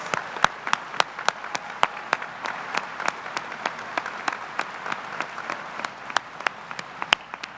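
Scattered but steady audience applause at a lively outdoor political rally, with individual sharp claps standing out over a soft background throughout.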